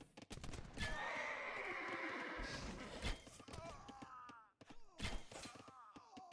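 Horses of cavalry archers in a 2v2 Age of Empires-style strategy match whinny and neigh repeatedly, loud and close, with hoof clatter and battle noise mixed in under game sounds.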